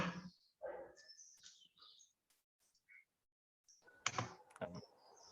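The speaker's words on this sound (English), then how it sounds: "Herman, are you typing" Typing on a computer keyboard comes through as scattered, faint clicks and taps in irregular short runs separated by quiet gaps, with a louder cluster of keystrokes near the end.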